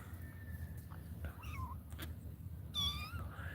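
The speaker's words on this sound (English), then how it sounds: "Meow, I hear you" Several thin, high cat meows, faint at first and then a louder drawn-out one near the end, over a low background hum.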